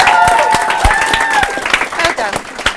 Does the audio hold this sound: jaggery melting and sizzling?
no